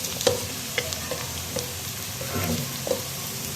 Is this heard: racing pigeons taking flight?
no